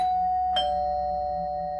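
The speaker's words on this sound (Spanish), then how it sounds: "cuando oí el timbre" A doorbell rings once with a bright electronic ding whose pure tone rings on and slowly decays, alone in a quiet room.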